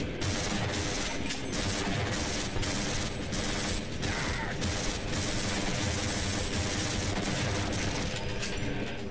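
Military soldiers fire at close range in Half-Life, producing continuous loud mechanical rattling and crashing bursts that run for the whole stretch, with no voices.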